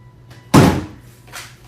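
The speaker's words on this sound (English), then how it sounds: "The invisible spirit knocked over a bottle of Captain Morgan Parrot Bay" A bottle of Captain Morgan Parrot Bay falls over indoors with one sharp, close thunk, followed by a fainter soft knock about a second later.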